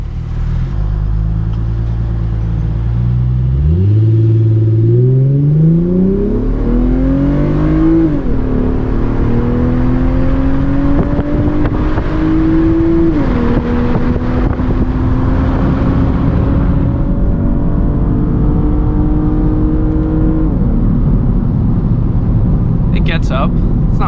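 Lexus IS250 F Sport sedan engine revving up through acceleration, a steady loud rising drone with pitch climbs and shifts between gears, heard from inside the cabin with brief talk over it.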